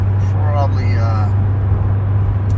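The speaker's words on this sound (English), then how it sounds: "this car sounds like a damn race car as it shoots down the highway" A car engine roars loudly and steadily with a deep constant drone at about 105 mph on a highway, its exhaust sounding like a race car, while someone talks over it.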